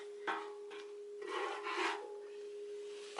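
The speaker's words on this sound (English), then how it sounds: "I'm gonna try to scrape as much as I can out of this thing." Gritty scraping rasps at debris lodged inside a part from a 1969 Ford Mustang 302 V8 under rebuild, several uneven strokes close by over a steady faint tone, with no talking.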